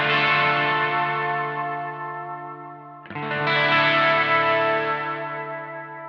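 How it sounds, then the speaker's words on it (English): Two sustained electric guitar chords ring through a Boss RV5 reverb set very wet with many repeats, each swelling into a thick, shimmering wash. The second chord enters halfway and decays slowly, with no talking. "I've got the reverb cranked"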